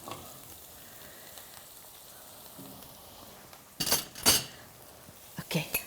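Olive oil and ghee sizzle and crackle in a pan while chicken mince is cooked, with quiet kitchen hiss at first, then loud bursts of frying near the end.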